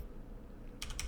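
A short burst of typing on a computer keyboard while entering a formula into an Excel spreadsheet, a few quick close key clicks after a brief quiet pause.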